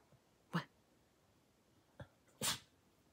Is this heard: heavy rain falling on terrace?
no